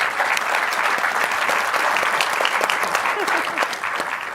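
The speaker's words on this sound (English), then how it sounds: "Give them all a round of applause." Dense, steady applause from a large audience at a cancer genomics forum, loud and sustained without a break for several seconds, with faint voices mixed into the clapping.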